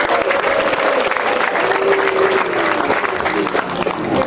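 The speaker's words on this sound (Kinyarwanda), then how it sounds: "nimubamera amashyi n'impundu ngaba baraberanye" An audience at a comedy performance bursts into sustained, dense applause mixed with ululation, a steady roar of clapping that holds at full strength throughout.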